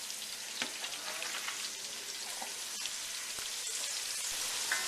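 Vegetables for caldo gallego fry in a single pot with a steady, dense sizzle, broken by a few soft clicks and taps of stirring, close and continuous with no voices.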